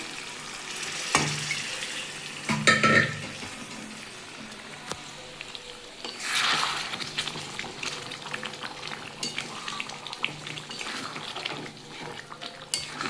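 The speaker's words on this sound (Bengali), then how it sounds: "আমি একটু নাড়িয়ে দিচ্ছি মাংসগুলো" Mutton curry stirred in a pot, a ladle scraping and clanking against the metal over a soft bubbling simmer and sizzle, with a few louder knocks between quieter stretches.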